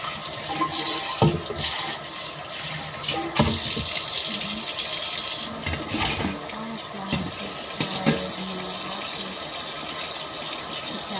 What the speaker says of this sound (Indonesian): Kita ganti airnya lagi.